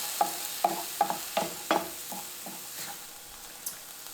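Black beans and chopped cherry tomatoes cook in a pan as a spoon stirs them in a series of distinct scraping strokes, roughly twice a second, over a faint sizzle, close by and with no voices.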